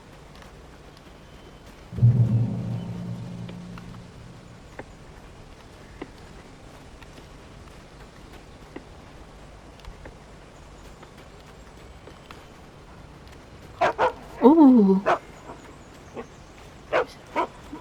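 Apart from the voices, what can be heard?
dog barking in video game Alan Wake Remastered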